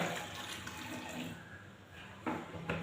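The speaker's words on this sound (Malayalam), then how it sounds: "കുറച്ച് വെള്ളം ഒഴിക്കാം" Water runs steadily into a plastic bottle being cleaned at home, a faint, even pouring hiss close by, with two small knocks near the end. No one speaks.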